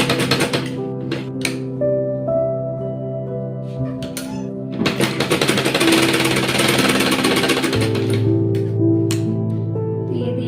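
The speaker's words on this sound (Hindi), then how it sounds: "अब हम इसे अंदर की साइड रखते हुए इस वाले बैक पार्ट पर भी सिलाई लगा लेंगे" A sewing machine stitches the back part of a small baby top in rapid rattling bursts, loud and close, with pauses between runs and a low steady hum and tonal drone underneath.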